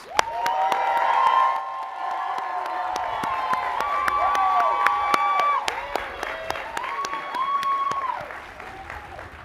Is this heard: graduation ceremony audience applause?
yes